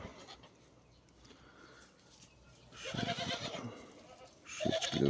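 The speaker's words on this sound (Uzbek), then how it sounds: "Şu echkileri satılat." Goats for sale bleat on a farm: two short, fairly close bursts of calls come a couple of seconds apart over a quiet rural background.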